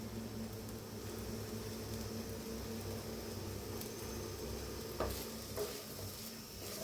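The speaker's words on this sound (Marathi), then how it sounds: "तर कोथिंबीर टाकून एकदा मिक्स करते" Coriander is stirred into cooked rice in a pan, a faint, soft scraping and rustle over a low steady hiss, with a couple of slightly sharper spoon strokes near the end and no talking.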